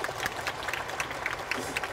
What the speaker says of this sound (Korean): 우리 김현주 배우님께 박수 한번 부탁드리겠습니다.